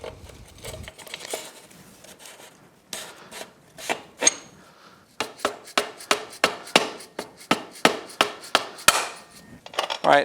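Sharp metal hammer strikes knock a rear wheel bearing spacer into place on a Suzuki GSX-R 1000 wheel, starting as scattered taps and then settling into a steady run of about a dozen close, loud blows.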